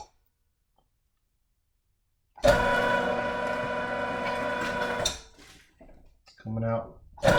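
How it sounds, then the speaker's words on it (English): An electric meat grinder, started and stopped by a foot switch, runs steadily for about two and a half seconds with a loud motor whine and clatter as a big piece of meat goes through, then cuts off; brief speech follows. "you can see how quick this meat is going through the grinder."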